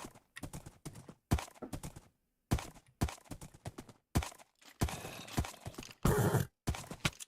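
Horse hooves clip-clop in Minecraft as a quick rhythmic run of crisp hoofbeats in short bursts separated by brief silences, with a faint whinny near the end.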